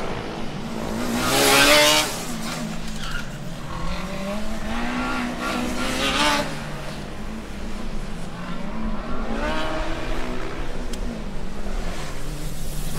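Historic race car at an autocross sliding its rear end around, its engine revving hard and fading with the passes, with tire squeal and brief skids over steady crowd and track ambience.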